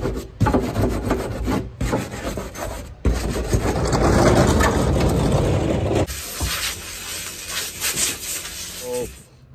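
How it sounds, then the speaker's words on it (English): Steady rasping and rubbing of sandpaper over a painted homemade bio digester tank, continuous strokes with a couple of brief pauses, close and fairly loud. "I think I'm going to give it a light sanding"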